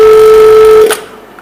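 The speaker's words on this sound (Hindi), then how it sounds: "और अब हम अपने इस वैक्यूम पंप को ऑफ करेंगे।" Refrigerator vacuum pump droning with a steady tonal hum for under a second, then switched off, with a brief click and the sound fading to quiet.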